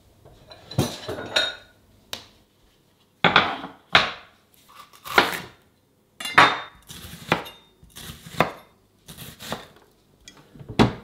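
Dishes, pots and cutlery clink and clatter in a kitchen as one person cooks alone, with separate knocks and scrapes arriving in irregular bursts and short pauses between them, close by and with no voices.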